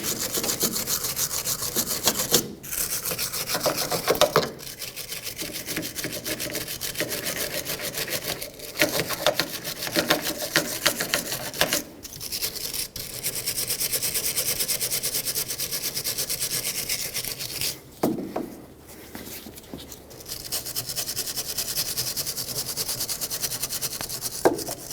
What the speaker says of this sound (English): I'm going to just take a wire brush, clean the threads, clean the mounting area, get it all nice and clean